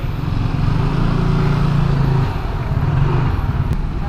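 A motorcycle engine runs close by with a loud, steady low rumble. Its pitch shifts slightly partway through, and no one speaks.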